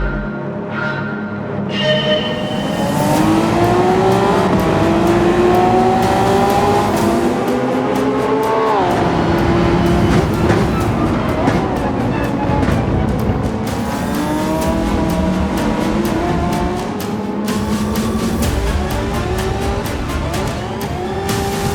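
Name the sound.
race cars at race start in Gran Turismo video game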